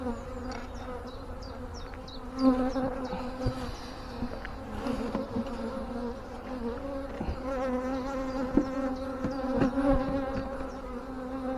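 Honey bees buzz around an opened beehive during swarm-season hive work, a dense, steady drone close by with a few faint knocks and shifts in intensity throughout.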